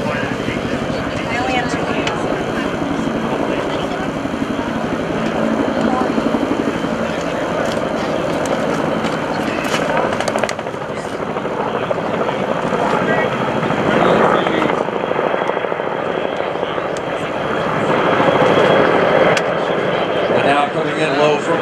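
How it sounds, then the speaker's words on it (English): CH-46 Sea Knight and AH-1 Cobra military helicopters at an airshow, a loud, continuous rotor roar with an announcer talking over it. "As the Sea Knights continue with the troop insert and depart from the LZ, you will observe the Cobras as they maintain security in the objective area."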